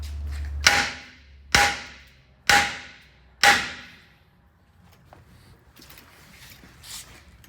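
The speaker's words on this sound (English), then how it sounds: "So I'm just going to use a small sledgehammer, give it a few good hits, and it'll bend down." A small sledgehammer strikes a metal bracket four times at an even pace, each hit a sharp, ringing clang that decays, followed by quieter handling noises.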